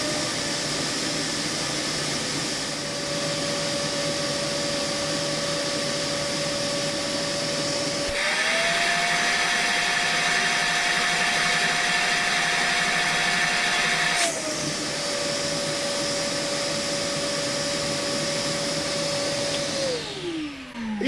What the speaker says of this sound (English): when you obstruct the inlet, it sounds like the motor's working harder, but it's actually not